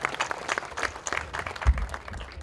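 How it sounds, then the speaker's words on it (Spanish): Crowd applauding the president at a contract signing event for an electrification network in the Chaco, scattered hand claps building into a short burst of applause with a low thump near the end. "Quiero pedir un voto de aplauso para nuestro presidente"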